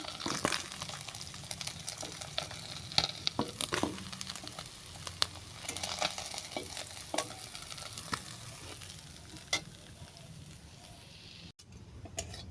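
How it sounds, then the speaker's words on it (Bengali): Tempering spices frying in mustard oil in a wok after fish has been fried, a lively close sizzle broken by scattered pops and stirring clatter, easing slightly toward the end. "ফোড়ন ভাজা হয়ে গেছে"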